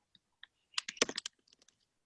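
Fingers typing on a computer keyboard in a quiet room, a few isolated taps and then a quick burst of close clicking keystrokes that trails off into scattered presses, with no talk.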